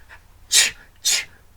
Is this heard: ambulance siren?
no